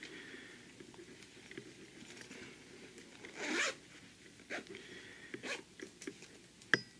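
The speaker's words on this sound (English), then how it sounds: "Zip it up," The zipper on a handmade fabric banana pouch is pulled, giving a quiet close zip with a longer rasping run and several short scratchy tugs amid soft handling noise.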